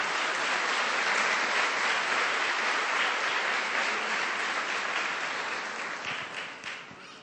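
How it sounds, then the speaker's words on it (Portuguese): Congregation at a Sunday church service applauds in praise, sustained dense clapping that holds steady and then thins out and fades near the end. "Um aplauso ao Senhor."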